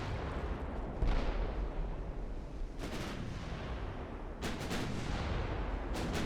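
Heavy naval guns on dreadnought warships firing in the naval battle game Ultimate Admiral: Dreadnoughts, several booming shots spaced a second or two apart, with a rumbling background between them.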